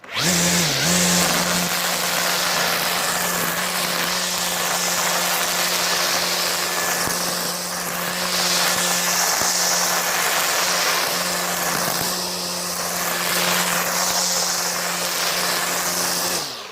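A battery grass trimmer whirs at a steady high pitch for the whole stretch, its tone dipping slightly as it cuts through grass, loud and close.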